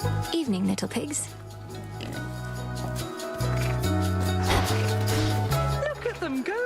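Pigs oink and grunt repeatedly in an ancient-Greek-themed setting, loud nasal snorts close by in a busy run over several seconds, mixed with a man's spoken greeting.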